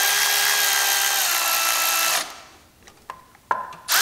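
A power tool whirs steadily and loudly for about two seconds while snugging down small oil pump bolts on a Chrysler 3.2/3.6 engine, then stops, followed by a few faint metallic clinks and taps.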